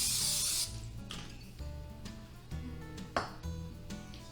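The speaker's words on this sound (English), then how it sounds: "I'm going to give it a spray with some olive oil" Olive oil cooking spray hisses in a loud burst into an air fryer basket, followed by quieter rubbing and clattering of the basket and kitchen items, with no talk.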